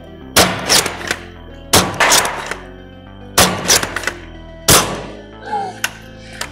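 Foam darts fired from a C4 or Caliburn blaster strike a target in four sharp, loud thunks spaced a little over a second apart, each with a brief rattle afterward, and a faint voice follows near the end.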